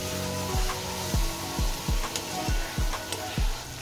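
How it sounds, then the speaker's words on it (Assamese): Spice masala fries in a pan for a small-fish curry, with a steady hiss of sizzling oil broken by repeated rhythmic knocks of a spoon or spatula stirring against the pan. "মছলাখিনি মই অলপমান দি ভাজি ললো"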